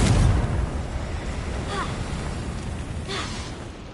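A Confringo explosion spell in a video game bursts with a loud boom at the start and then fades into a rumbling, crackling tail, with short game voice sounds over the decay.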